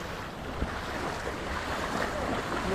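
Hamtik Falls in Mutalban pours as a steady, broad rushing roar, close and unbroken, with no voices.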